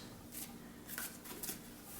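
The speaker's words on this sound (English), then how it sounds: "these two other cards came out as I was like shuffling in my lap" Tarot cards being shuffled on a lap, giving soft papery riffles and flutters in a few short bursts over a low steady background hiss, fairly quiet and close.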